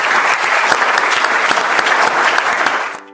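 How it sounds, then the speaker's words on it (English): Loud, sustained clapping from an audience at a medical Q&A roundtable, with many hands clapping at once. The applause holds steady, then quickly drops off near the end. "just a huge round of applause, please, for Professor Carol Peden."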